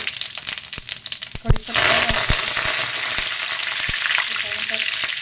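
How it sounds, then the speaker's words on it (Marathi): Cumin and mustard seeds tipped into about two spoonfuls of hot oil in a kadhai, bursting into a loud, steady sizzle after a few sharp pops and clicks, with crackling spatters continuing. "तर त्याच्यामध्ये आता जिरे मोहरी मी घालते"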